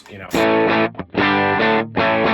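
Electric guitar through an HX Stomp AC30 amp preset with delay and reverb bypassed, played as three loud distorted chords or phrases with short gaps between them, dry and close.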